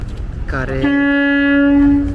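A deep ship horn in the port of Hamburg on the Elbe sounds a long, steady blast after a brief rising honk, loud and sustained over faint background noise.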